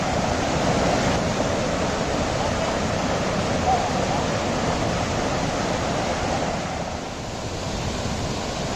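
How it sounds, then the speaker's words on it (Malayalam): A milky white waterfall and rocky stream near Moonukuzhi in Pala, Kottayam, make a steady, dense rushing roar close by, holding an even level throughout with no voices. "ഇനി ഈ വെള്ളച്ചാട്ടത്തിൻ്റെ അരികിൽ കൂടി മുകളിലേക്ക് പോകാം"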